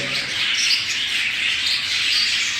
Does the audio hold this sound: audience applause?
no